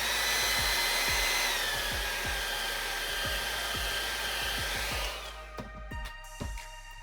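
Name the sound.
hair dryer drying paint on model wood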